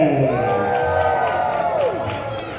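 A Medieval Times dinner-show crowd in Lyndhurst, New Jersey, cheers and whoops loudly in the arena on Christmas Eve, a big sustained roar with children's shouts, while an announcer's amplified voice rings out over it.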